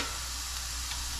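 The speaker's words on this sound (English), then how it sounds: "Bacon's frying." Bacon spits and crackles in a hot pan, a steady close sizzle that keeps going with no speech over it.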